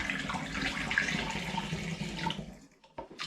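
Syrupy sugared apple juice poured from a container into a pan while making lemon cider, a continuous liquid splashing stream that stops abruptly, followed by a couple of faint clunks.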